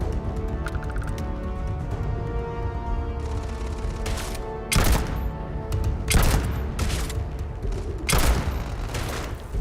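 Minigun fire in the game Starfield comes in several loud, sharp bursts of rapid gunfire, the later ones heavier and closer together, over a busy background of game sound.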